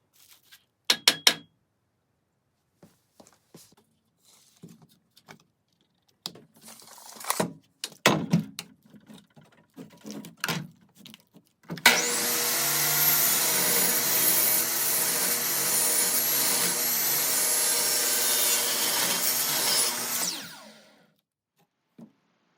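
A track guide for swing doors cut with a power saw: scattered handling knocks and clatter, then a loud, steady whining cut of about eight seconds that stops abruptly.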